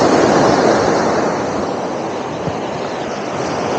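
Surf rolling onto Desaru beach in Johor, a broad steady wash of breaking waves close by, with some wind buffeting the microphone and no voices.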